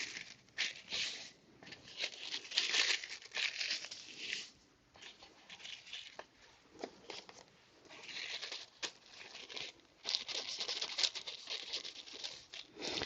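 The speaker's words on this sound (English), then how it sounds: "I've got some tracing paper here." Tracing paper handled and crinkled at a craft table, a close, continuous rustling and crackling with brief pauses and louder bursts throughout, no talking.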